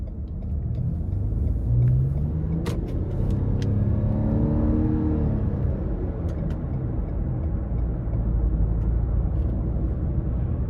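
A 2022 Lexus RX 450h hybrid accelerates on a road, heard from inside the cabin as a steady loud rumble with a smooth engine tone that climbs and then settles over the continuous road noise.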